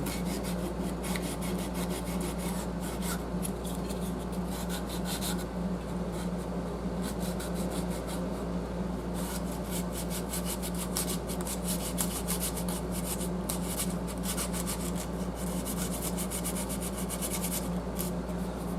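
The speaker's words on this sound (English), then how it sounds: "what we've got to do is just take it and sand it. This is it's 400 grit emery cloth." Corroded resistance wire on a rheostat from a 1925 Federal radio being sanded with 400 grit emery cloth: a continuous, close, rapid rasping and rubbing that holds steady for the whole stretch without a pause.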